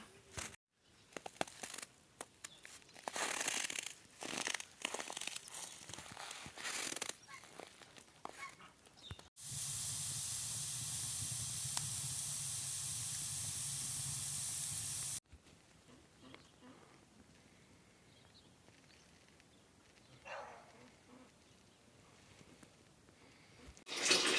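A steady broadband hiss of a steam iron pressing laundry runs for several seconds in the middle, between stretches of rustling, clattering household activity.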